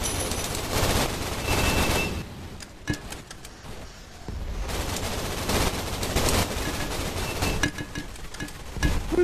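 Rapid automatic gunfire from the Gun Raiders deathmatch video game, dense bursts of shots up close with a brief lull midway before the shooting resumes steadily.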